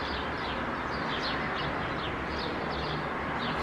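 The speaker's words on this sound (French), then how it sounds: "Ouh, les oiseaux, bonjour." Small birds chirp outdoors in short, repeated calls, faint and somewhat distant over a steady wash of background noise.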